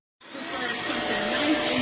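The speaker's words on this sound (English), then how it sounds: "Vacuum cleaning." Vacuum cleaner starting up and running steadily with a loud, continuous whine and airflow roar, used near a horse.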